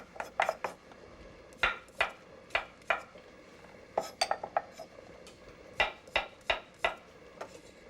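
Garlic sliced with a knife for garlic-infused olive oil in an Italian home kitchen, sharp rhythmic taps of the blade on a cutting board in quick bursts, close and clear with no talking.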